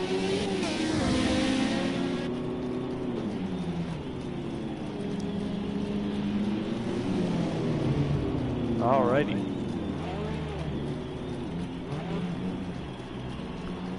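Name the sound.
race cars rolling out, Project Cars 2 video game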